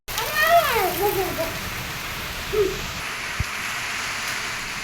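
Steady rain falls outside while children play indoors, having wheeled a bicycle in out of the wet; a voice rises near at the start, then the soft hiss of rain carries on alone.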